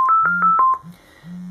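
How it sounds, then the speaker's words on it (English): Five short two-tone telephone keypad beeps in a quick, even sequence, clear and close, the number dialed in an office setting through a portable Bluetooth speaker, ending with a low hum. "To do that, just let me dial the number here."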